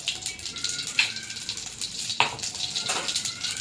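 Mustard seeds and cumin crackle in hot oil for a Gujarati samosa filling, a steady close sizzle broken by a few sharp pops and spits, with no voices.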